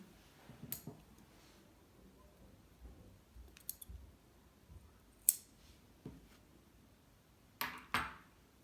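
Scissors snipping crochet yarn, a few quiet, sparse clicks and snips spaced apart in a calm room, close and faint with no talking.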